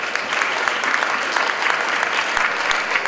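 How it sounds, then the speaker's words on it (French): An audience at an ideas festival applauds loudly, dense continuous clapping that holds at an even level throughout, with a few sharper individual claps popping out of the wash. "merci de l'applaudir très fort"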